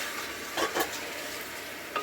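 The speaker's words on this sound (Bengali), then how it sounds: "মাংসটা তেলের মধ্যে দারুণভাবে কষানো হয়ে গেছে" Beef for korma frying in oil, a dense sizzle with a few short stirring scrapes, close and moderately quiet, no talking.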